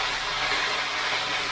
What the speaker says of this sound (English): And there's the steam.